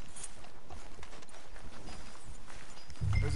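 Horse hooves clip-clop steadily on the ground in Red Dead Redemption 2, a rhythmic close-up trot running through the whole stretch with a louder thump near the end.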